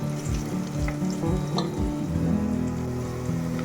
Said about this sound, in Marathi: कोकम पण छान त्याच्यामध्ये पोळून घ्यायचे